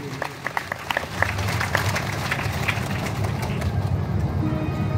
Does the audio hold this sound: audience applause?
yes